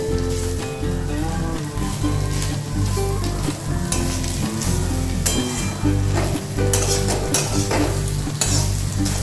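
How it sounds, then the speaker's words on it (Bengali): Grated coconut and vegetables frying and being stirred in a pan for a Bengali vegetable dish, a steady loud sizzle with scraping stirs and clattering spatula hits throughout, music-like tonal hum underneath. "এইভাবে নারকেলগুলোকেও একটু লালচে করে ভেজে নিয়ে নামিয়ে নেব"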